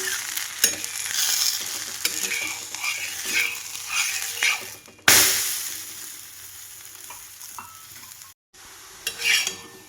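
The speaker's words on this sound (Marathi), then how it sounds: "दोन्ही साईडनी ना खरपूस अशी मी धपाटे हे भाजून घेतलेलं आहे" Dhapata flatbread roasting on a hot oiled tawa gives a continuous close sizzle with occasional scrapes and taps, a sudden louder burst midway and a short silent gap near the end.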